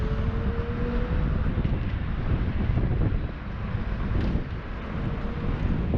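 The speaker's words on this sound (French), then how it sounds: "C'est vraiment léger, ce petit son d'accélération." An Alrendo TS Bravo 125 electric maxi motorcycle accelerates with a faint, light electric whine, largely buried under heavy rushing wind noise against the microphone.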